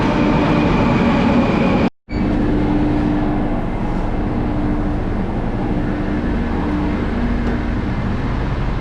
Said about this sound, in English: But let's board the train.